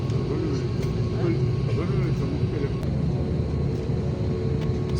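Saudi Airlines airliner taking off from King Abdulaziz Airport in Jeddah, a steady broad engine roar and rumble holding at one level throughout, with faint voices in the background.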